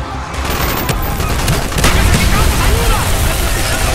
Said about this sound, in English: use the grenade launcher